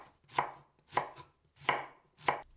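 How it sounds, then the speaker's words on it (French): A knife chops broccoli and red cabbage into small pieces on a board, four distinct, evenly spaced crunchy cuts, close and clear with quiet gaps between. "Je coupe en petits morceaux 150 g de brocoli, 100 g de choux rouges."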